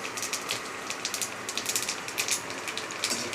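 Cumin seeds dropped into hot oil for tempering alongside chili, a close, rapid patter of sharp crackles and pops in irregular clusters over a soft sizzling hiss.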